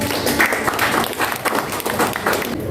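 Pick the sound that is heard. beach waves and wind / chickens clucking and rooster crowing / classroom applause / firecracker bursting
classroom applause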